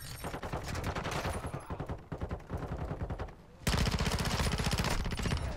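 Sustained automatic gunfire in Call of Duty: Modern Warfare II, dense rapid rattling shots running almost without pause, with a louder, closer burst near the end.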